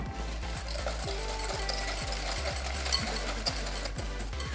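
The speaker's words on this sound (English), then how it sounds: "You don't need to whisk until the eggs look like fluffy and pale" Rapid rhythmic whisking of eggs and sugar clinks against a bowl, a quick regular beat of metal taps close up with no talking.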